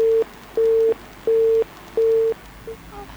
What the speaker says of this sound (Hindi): हमरा सबके शायद ई फोन कॉल डिस्कनेक्ट भऽ चुकल अछि